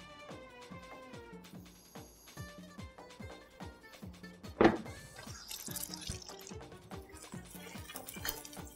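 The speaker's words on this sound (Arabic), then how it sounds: "وعليهم شويه ميه دافيه" Warm water is poured onto honey while grilling, giving a soft trickling and dripping flow with one brief louder splash midway, close and fairly quiet.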